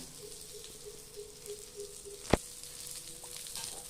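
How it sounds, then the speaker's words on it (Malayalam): Dried fish frying in a pan gives a faint, steady sizzle and soft crackle, with one sharp click of a utensil midway and a low hum underneath. "ഉണക്കമീൻ വറുത്തുകൊണ്ടിരിക്കുകയാണ്"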